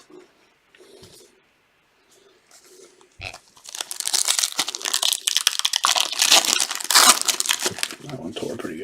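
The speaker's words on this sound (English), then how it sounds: "These packs do not tear very smoothly, I guess because there's just so few cards in there." Foil packs of 2022 Topps Update Chrome baseball trading cards torn open by hand, a dense run of close crinkling and ripping foil after a few quiet seconds, loud and continuous with some rustle.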